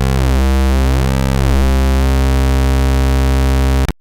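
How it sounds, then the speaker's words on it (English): A loud, buzzy square-wave tone from a kNoB technology η Carinae VCO synthesizer module, full of bright harmonics, sweeping and shifting in timbre before settling into a steady drone that cuts off abruptly. "Square wave output."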